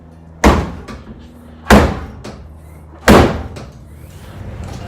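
A Seibon carbon-fiber CSL-style trunk lid on a Mitsubishi Evo X slams shut three times in a row, each a loud, close, hollow thud with a short ringing tail and a brief pause between.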